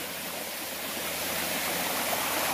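Creek water flows steadily as a continuous broadband rush and babble, close and fairly loud, with no voices over it. The stream is a shallow creek where native shrimp are caught.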